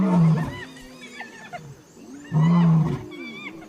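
A lion growls and roars threateningly at hyenas over a carcass in the African wild, two loud close roaring bursts with rasping calls between them and no speech.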